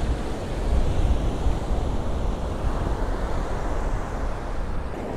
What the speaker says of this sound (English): We've got waves washing up on a sandy beach.